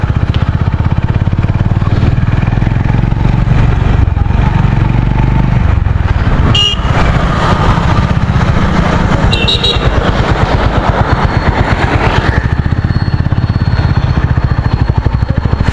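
A motorcycle engine roars loud and close throughout a ride, a steady throbbing drone with a few sharp clicks and rattles, and no talking.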